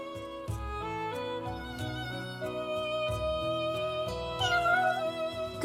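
Cats meow in the video game Shining Resonance Refrain. The soft meows are mixed under steady melodic game music.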